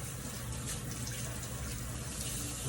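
Tap water runs steadily over a peeled apple being rinsed in a sink, a continuous broadband splash and gush with no speech.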